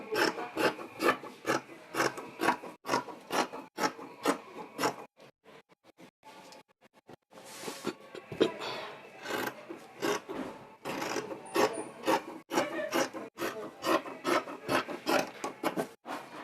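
Fabric being cut with scissors for a shirt dress, close rhythmic rasping snips and rubbing strokes repeating steadily, with a brief quieter pause midway before the cutting resumes.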